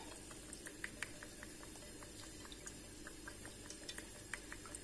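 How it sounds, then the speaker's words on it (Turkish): Pasta simmers in a pot of water, a soft, low bubbling with faint irregular pops and ticks, quiet and continuous throughout. "Makarnalarımız yan kaynamaya başlarken"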